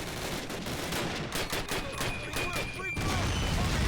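Mortar blasts and bursts of rifle and machine-gun fire in a Call of Duty battle, rapid overlapping shots and thuds with a heavier boom near the end, with faint voices mixed in.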